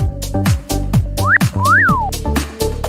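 A trading platform's alert whistle rises and falls in two quick sweeping tones, loud and near, over a steady rhythmic electronic beat, with no talking.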